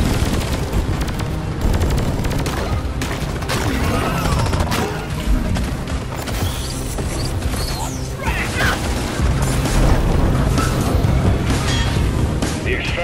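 Support rocket strikes in Deep Rock Galactic crash and boom amid steady gunfire, a loud chaotic barrage of impacts and explosions running throughout.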